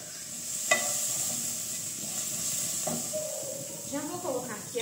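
Meat sautéing in a pan over a farmhouse wood-fired stove, giving a steady close sizzle and hiss with occasional stirring scrapes throughout.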